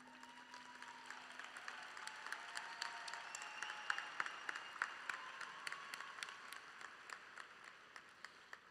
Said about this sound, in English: So wave to your family, blow them a kiss, and give them a nice big round of applause.